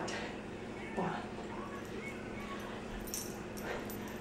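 A small female puppy whimpers softly a few times during an at-home workout, faint short whines over a steady room background.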